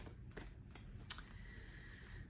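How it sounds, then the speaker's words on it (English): A tarot card deck being shuffled by hand gives a few soft riffling rustles and one sharper snap of cards, close and fairly quiet against a low room background. "it took me a long time to break in this deck to be able to shuffle them"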